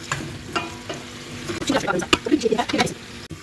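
Pumpkin sautéing with ginger and onion in a pan for soup, a soft steady sizzle with stirring scrapes, while a voice talks over it.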